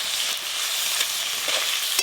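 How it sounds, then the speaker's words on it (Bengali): Chopped tomatoes with salt sizzle steadily in a hot pan while a spatula stirs through them, a close, even frying hiss with soft scraping and no talking. "টমেটোগুলো খুব ভালো করে আমি একটু ভাজা ভাজা করে নেব।"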